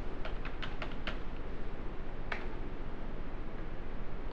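Keys on a computer keyboard are pressed in a short burst of quick clicks, then one more click after a pause, all over a steady hiss.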